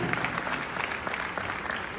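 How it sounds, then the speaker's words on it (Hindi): Audience applause at a public ceremony in India, a steady dense patter of many hands clapping throughout. "इसके लिए आप लोगों को जोरदार ताली बजानी चाहिए।"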